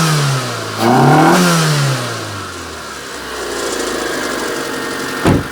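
A Proton Satria engine runs up close, revving up and then settling back to an even idle, running smoothly without misfiring, with no talk.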